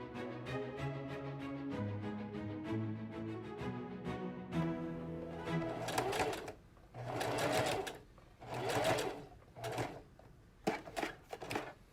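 A sewing machine runs in several short, fast-whirring bursts, stitching a straight line of pleating on a Victorian bustle cage, with soft background music throughout.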